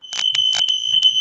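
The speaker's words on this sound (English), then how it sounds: "Did you set your smoke alarm off, Chris?" A smoke alarm goes off indoors, its shrill high electronic beeping pulsing in rapid bursts, loud and close, and stopping quickly after about a second.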